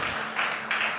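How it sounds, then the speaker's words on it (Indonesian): Church congregation clapping during a pastor's sermon, a brief burst of applause in two swells with a low hum beneath. "Berikan tepuk tangan buat Tuhan kita."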